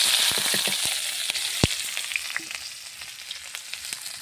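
Steady sizzling of chilli, onion and garlic frying in hot oil left from frying fish and potatoes, with scattered clicks and a sharp tap of a utensil near the middle; no voices.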